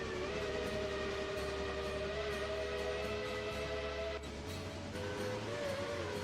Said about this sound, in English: That is the Baldwin 3 chime off of Tweetsy's 12.